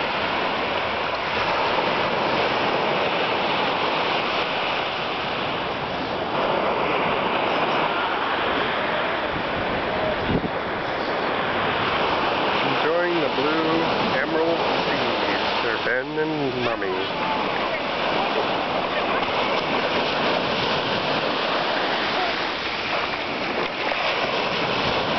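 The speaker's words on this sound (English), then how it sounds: "Beautiful waves, beautiful seas." Ocean waves roll onto a white-sand beach in Barbados, a constant loud wash of surf with a windy rush, and voices faintly mixed in.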